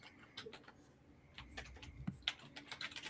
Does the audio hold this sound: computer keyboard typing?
yes